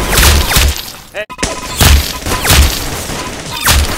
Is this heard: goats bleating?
no